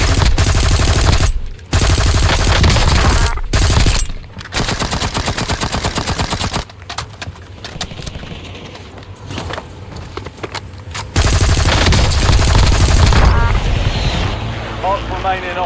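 In the video game Warzone, a nail gun fires in rapid bursts of sharp clattering shots amid loud game noise, with brief gaps and a player talking over the action throughout.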